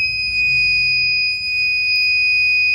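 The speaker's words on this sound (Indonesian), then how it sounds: "Maka akan ada semacam alarm, lalu ada notifikasi password salah dan pintu tidak terbuka." An electronic alarm from a prototype door lock after a wrong password is entered: a loud, piercing, steady high-pitched electronic tone that sounds continuously throughout.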